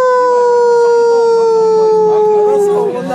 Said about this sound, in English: Can I film your dog?